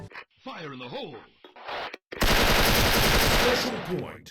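Sustained automatic fire from an M4A1 rifle in the Special Force online shooter, a loud, rapid, continuous burst lasting about two seconds, preceded by someone talking and brief game noises.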